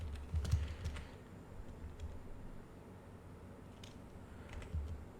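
Fingers type on a computer keyboard in a steady, close clatter of key presses, with a few louder bursts near the start and end over a low background hum.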